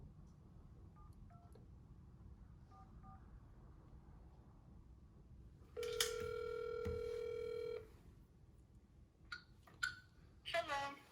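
A phone call being placed for a job interview callback: soft keypad dialing tones come first, then a single loud ring tone about two seconds long, followed by faint clicks and brief voices.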